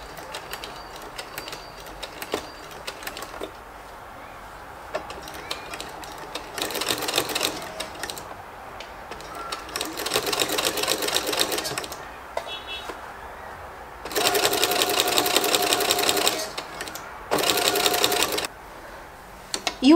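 A sewing machine stitches the seam of a homemade baby blanket, running in repeated loud, rapid bursts with short pauses between them, close to the listener.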